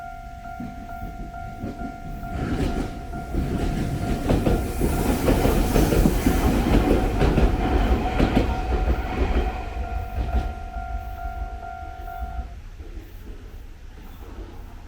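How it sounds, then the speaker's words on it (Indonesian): A train rolls past on Shikoku island, Japan, building from a distant rumble into a loud, close passage with rhythmic wheel clatter and a steady tonal hum, then fading away; no talk. "Oh, dari kanan sini keretanya."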